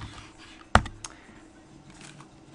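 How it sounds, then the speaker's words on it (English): A computer keyboard gives a couple of sharp, isolated key clicks close by, separated by a short pause, against a quiet room background. "I'm going to type in the Boston Red Sox"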